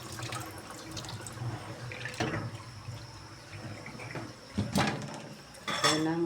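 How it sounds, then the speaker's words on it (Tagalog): Water runs and splashes in a kitchen sink as washed vegetables are drained, with clattering pots and a few louder sloshing bursts near the end; no speech. "I-drain na natin ang ating tubig."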